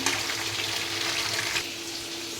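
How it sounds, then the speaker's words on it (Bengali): Chicken frying in a pan for biryani gives a continuous, fairly loud broadband sizzle that stays even throughout, with no speech. "আজকে লাল লাল করে মুরগি ভাজবো"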